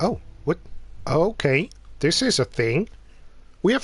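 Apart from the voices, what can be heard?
None of the usual background noises is heard.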